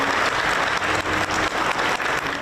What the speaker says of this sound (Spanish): el sonido de los aplausos retumbó en el interior del Museo de Antioquia